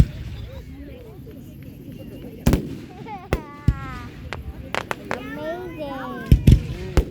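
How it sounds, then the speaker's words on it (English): Firework bursts in Plainfield, Connecticut: several sharp, loud bangs scattered across the moment, with crackling and whistling trails between them, while people talk and react excitedly nearby. "It's Ada firework."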